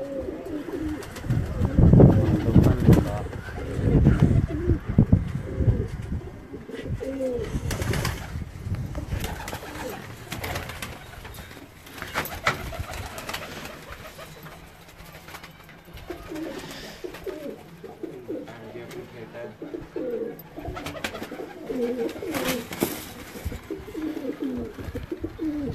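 High-flying pigeons coo repeatedly from nearby, soft throaty calls rising and falling in clusters, louder early on and then recurring more quietly amid faint outdoor background noise.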